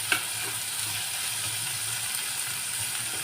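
Mushrooms sautéing in ghee with salt for mushroom biryani, giving a steady, even sizzle with a faint low hum beneath and no talking.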